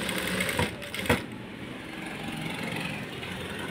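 A sewing machine stitching a beaded maggam work blouse runs in a continuous close whir, with a couple of brief louder knocks near the start.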